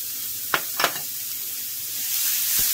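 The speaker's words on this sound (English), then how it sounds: "Go ahead and add our pesto and our cherry tomatoes." Pesto and cherry tomatoes hit a hot pan with zucchini noodles, a soft steady sizzle punctuated by a few sharp clicks and spatters, the hiss swelling slightly toward the end.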